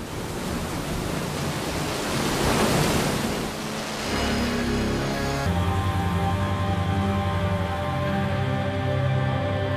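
Violent river rapids on the Amazon roar as a steady, dense wash of rushing water, loud and close, with a hovercraft's droning engine tone rising over it from the midpoint.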